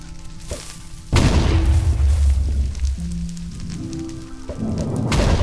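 A loud TNT blast in a modded block-building video game erupts abruptly and then rumbles on as a sustained low roar with crackling debris. Synthetic game tones are heard before and during it, and no one speaks.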